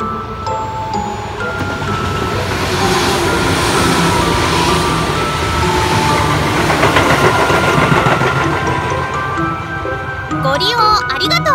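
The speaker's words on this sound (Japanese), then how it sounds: "電車が到着いたします。" A train rumbles into a station with rising mechanical noise and squealing tones, while a station announcement plays over the top.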